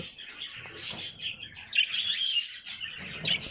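Budgerigars in a breeding room, a dense chatter of bright chirps and warbling tweets from several birds at once, continuous and fairly close.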